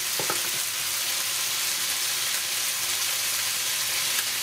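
Beans and corn sizzling in a pot for a one-pot vegan stew, a constant dense frying hiss with a couple of faint clinks at the start, no voices.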